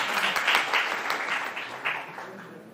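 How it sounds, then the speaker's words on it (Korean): Audience applause at a solar-dividend policy debate forum, welcoming a panelist to the stage: dense, steady clapping from a sizable crowd that fades slightly toward the end, heard alone. "여러분 뜨거운 박수로 맞이해 주시기 바랍니다"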